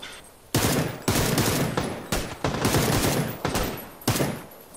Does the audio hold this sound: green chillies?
no